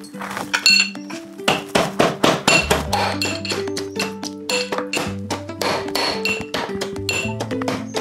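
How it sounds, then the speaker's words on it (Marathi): Ginger and garlic are pounded in a mortar and pestle, giving repeated sharp, close-up strikes at a steady rhythm over ringing, tonal background sounds. "आणि हे आलं आणि हे खलबत्त्यात बारीक करते."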